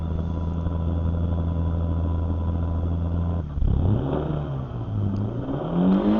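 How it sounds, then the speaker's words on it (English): Car engine in a race car at Cadwell Park during a JSCC round, droning steadily before revving up and down unevenly during a hill start, loud and close with no talk. "As you can see, a bit too much revs, me just going back, trying to go into Ashley's boot."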